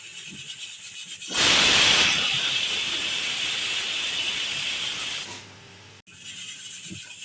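A pressure cooker on a gas stove, cooking soaked lentils for dal makhani, lets out a loud, steady hiss of escaping steam that starts abruptly and runs for several seconds before tapering off, with quiet kitchen background before and after.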